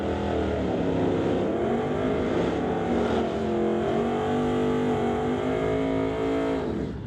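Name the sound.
drag racing car run down the strip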